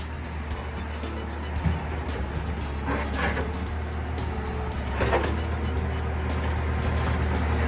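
A Komatsu WA150-5 wheel loader idling and working its loader arm, a steady low diesel engine drone with a few brief hydraulic whines and clunks, close and continuous.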